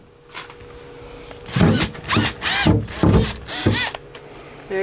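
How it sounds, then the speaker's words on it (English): A power drill whirs in five short bursts, drilling a pilot hole in a wooden drawer, each rising in pitch as it bites into wood, with brief pauses between, close and fairly loud. "Now we're going to drill a little pilot hole on center."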